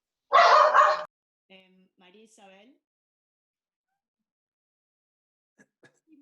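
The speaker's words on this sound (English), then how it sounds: "my annoying dog is barking right now" A dog at home gives one loud, close bark, followed by a few softer yips and whines, then near silence with faint scattered sounds.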